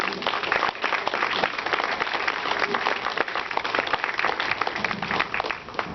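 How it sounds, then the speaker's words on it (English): A crowd claps steadily and densely at an outdoor Pride flag raising in St. John's, the applause holding strong and close for the whole stretch. "Let's have a big round of applause for the Arts and Culture Center,"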